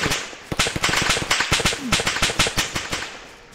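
Rapid gunfire in the survival video game DayZ, a loud burst of repeated cracking shots in an uneven rhythm lasting several seconds, close and sharp with no talk over it.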